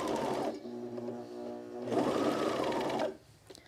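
A sewing machine stitches a shirt side seam in two bursts of steady, fast whirring, loud and close, with a brief slower hum between them and a pause at the end.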